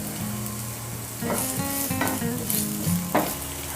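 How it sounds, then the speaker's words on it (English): Chopped potatoes frying in oil for chole, a steady close sizzle with intermittent stirring scrapes and crackles. "I usually add some chopped potatoes and fry them in some oil."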